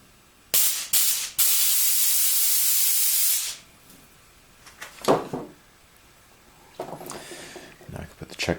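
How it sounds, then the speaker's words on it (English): Brake cleaner sprays in a single loud, steady hiss for about three seconds and then cuts off, used to clean parts during a Woods Powr vacuum suction cup restoration, followed by quieter handling noises. "I'm going to finish it off with just a little bit of brake cleaner."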